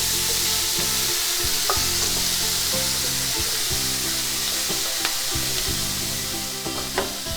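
Marinade vegetables sautéing in a pan, a steady close hiss of frying broken by regular scraping strokes and a few clicks of a spoon against the pan.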